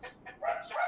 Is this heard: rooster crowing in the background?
yes